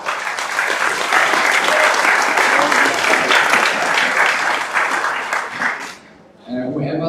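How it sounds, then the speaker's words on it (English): A meeting audience at a council general assembly gives a full, dense round of applause that holds steady for about six seconds, then breaks off abruptly before a short tonal sound. "So please, round of applause."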